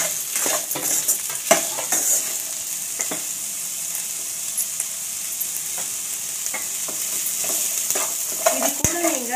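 Finely chopped vegetables with salt stirred in a hot pan while making wheat rava vegetable cutlets, giving a steady close sizzle with irregular scraping strokes throughout and no talk.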